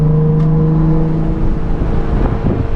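Audi S4 sleeper with 430 hp and all-wheel drive, launch control engaged, its engine holding a steady, loud drone at set revs from close inside the car, with a slight rise near the end.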